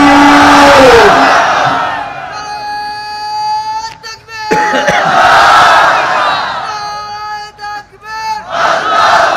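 A large crowd at an Islamic religious gathering roars a takbir chant in unison, loud and close, with several surging shouted waves separated by brief dips.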